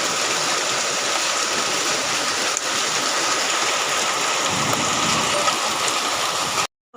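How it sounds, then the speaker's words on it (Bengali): Heavy rain pours down in a steady, dense roar with hail mixed in, unbroken for several seconds before cutting off abruptly. "প্রচণ্ড জোরে বৃষ্টি হচ্ছে"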